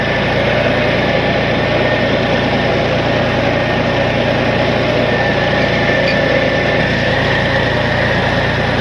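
A steady tractor engine drones loudly and continuously, a low idling rumble with no pauses and no voices, outdoors in a village farm field.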